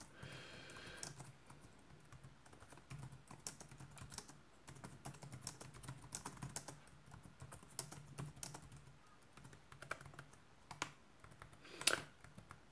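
Typing on a Pinebook laptop keyboard, a steady run of quiet, close key clicks and taps with an irregular rhythm, ending with a sharper louder clack, no talk.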